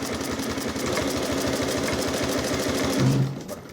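A Dürkopp-Adler 366 industrial sewing machine stitching at a steady fast rate, a loud continuous mechanical hum with rapid rhythmic needle clatter that shifts pitch briefly near the end as it slows.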